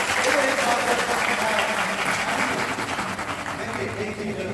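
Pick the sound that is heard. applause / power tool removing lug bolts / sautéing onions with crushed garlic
applause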